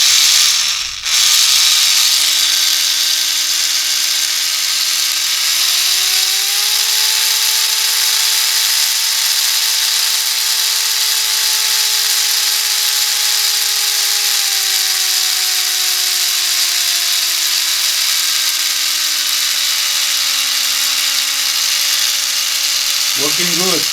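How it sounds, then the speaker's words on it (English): A small geared DC motor runs at 5 volts with a loud, steady high whine close by. The pitch rises slightly midway and then settles back, and it continues with no one speaking. "Let's try this geared motor."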